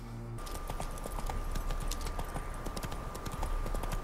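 Geralt's horse Roach in The Witcher 3: Hearts of Stone trots along with a steady, rhythmic clip-clop of hooves, close and continuous over a low ambient hum.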